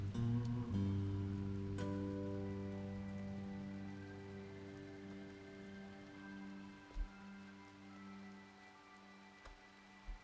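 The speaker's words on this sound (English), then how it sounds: "Ah, finally, rain." Rain falls in the colony game RimWorld as a soft, steady patter that continues throughout, quiet beneath sustained musical tones, with a few faint thumps.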